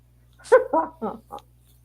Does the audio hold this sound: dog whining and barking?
yes